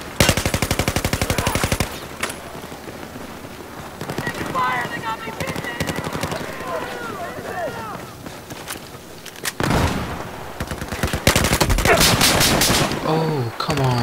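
Rapid automatic gunfire bursts from the Battlefield 4 video game, loud and dense at the start, thinning to scattered shots, then returning in heavy sustained fire near the end, with a voice talking over parts of it.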